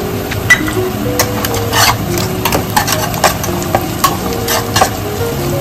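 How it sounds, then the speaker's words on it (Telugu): Cinnamon, cardamom and cloves fry in hot oil for a chicken fry, giving a steady close sizzle broken by repeated scraping stirs of a utensil in the pan, with no voices. "దాల్చిన ఇలాచి, లవంగి ఇందులో వేసి వేగించుకోవాలి."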